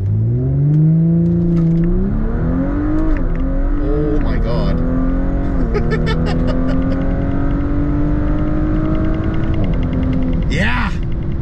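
An Audi B9 S4 fitted with a CTS Turbo transmission insert accelerating hard at full throttle on a hot day, its engine note climbing steadily and loud through quick gear changes, heard from inside the car.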